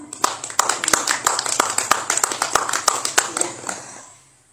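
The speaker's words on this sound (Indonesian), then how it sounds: "kita beri aplaus untuk beliau" An audience at a seminar on Malang masked Wayang Topeng dance applauds a presenter, a crowd clapping with sharp overlapping claps that swell and then taper off to silence near the end, with faint voices underneath.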